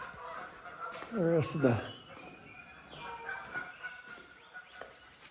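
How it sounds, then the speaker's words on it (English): A flock of geese arriving near a family lodge pavilion, a few loud close honks in a short burst followed by fainter calls, with someone speaking at times over them. "Oh, a lot of geese have arrived."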